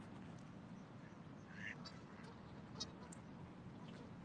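A goose in the Boston Public Garden on a dark night gives a few faint, short honks, far off and partly masked by a quiet, steady background hiss.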